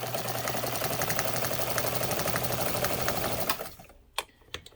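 A Necchi Mira BU sewing machine stitches at a fast, even whir for several seconds, then stops abruptly, leaving a few sharp mechanical clicks in near silence.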